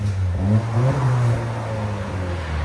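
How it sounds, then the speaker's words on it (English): Deep, steady exhaust drone from a 2021 Honda Accord 2.0L turbo with the muffler deleted, idling with a slight swell in revs, close and clear with no talking. "Honda Accord Turbo muffler delete."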